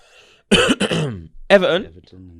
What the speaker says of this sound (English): I had to cough when I said that one